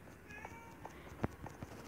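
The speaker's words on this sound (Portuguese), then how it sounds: "Esse miado é do meu gato." A house cat meows a few times indoors, short soft cries scattered over a faint background of computer game sounds, fairly close, with no talking.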